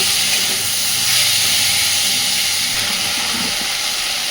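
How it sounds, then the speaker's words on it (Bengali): Onion and tomato frying in oil in a pan for a fish curry, a continuous bright sizzling hiss that stays steady and close throughout, with no talking. "সেই পর্যন্ত সব কিছুকে সুন্দরভাবে ভেজে নেব।"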